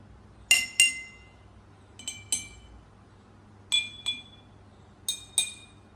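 Glasses filled with different amounts of water struck in pairs, four sets of bright ringing clinks at varied pitches with short decays, close and clear over a faint hum, no talk.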